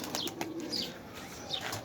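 High-flyer pigeons flap their wings as they descend at feeding time, a close, busy flutter of wingbeats with a few soft coos and chirps mixed in.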